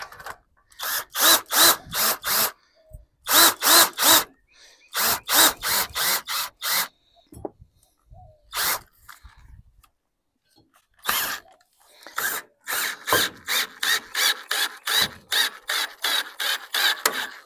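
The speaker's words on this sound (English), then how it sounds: "I wonder what would happen if I push the stabilizer down" Stabilizer jack on a travel trailer being cranked down by a power drill, loud close bursts of rapid rhythmic ratcheting whirs, several separate runs of a second or two, with one longer run near the end.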